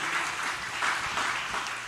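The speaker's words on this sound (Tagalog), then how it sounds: "Mahina ang palakpak po natin" A church congregation claps together during worship, a steady, diffuse patter of many hands that fills the room at moderate level with no clear individual beats.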